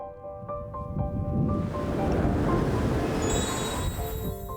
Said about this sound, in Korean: 거친 바람 소리가 이곳이 해발 1000m 대관령임을 알려줍니다.